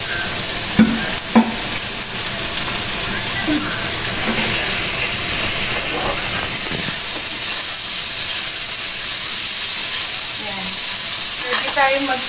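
Chayote and potatoes frying together in a pan over fairly low heat for lumpia filling, a steady loud sizzle and hiss throughout with occasional stirring scrapes and faint background talk.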